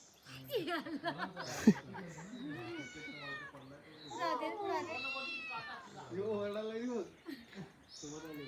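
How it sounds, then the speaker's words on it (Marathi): A cat meows repeatedly close by in a Konkan village home, its rising and falling cries mixed with people talking and some light laughter. "ती मांजर आली आमच्या मागणं."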